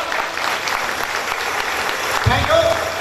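An audience at a business speech event applauding, a brisk run of clapping from a crowd mixed with a voice speaking over it.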